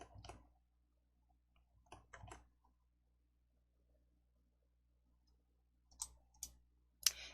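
Soft, close mouse clicks while working with blocks in Entry coding software, a few isolated clicks early on and a quicker cluster near the end, faint against near silence.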